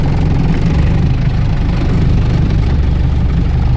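A 1990 project car's engine idles at a raised idle of about 1,000 rpm, a steady, close, low rumble with an even mechanical pulse and no talk over it.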